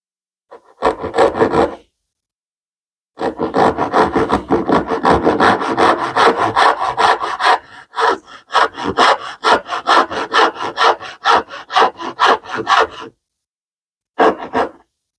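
A wide 3/4-inch chisel pares a dovetail in wood, with bursts of close, dry scraping strokes that repeat in fast runs, breaking off in short pauses and ending on one short final stroke.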